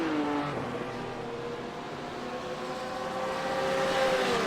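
A GT3 race car on the Detroit street circuit, turned around after a spin, accelerates away, its engine note climbing steadily in pitch, loud and continuous with no voices heard.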